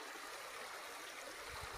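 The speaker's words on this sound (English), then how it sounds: "This is where the water, where the spring water comes down right here, exit right here" Mountain spring water running down into a stream, a continuous broadband rushing hiss, steady and even throughout, with no voices.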